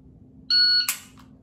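A single short, high electronic shot timer beep sounds clearly, followed immediately by a sharp, loud gunshot burst.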